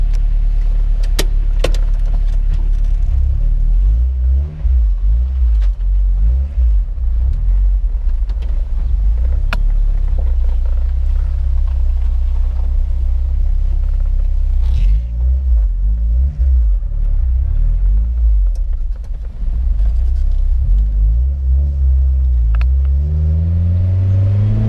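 Turbocharged Honda Prelude H22 engine on the road, a steady heavy low rumble with rising and falling revs and fluttering turbo sounds as the throttle lifts, continuous and close with no talking.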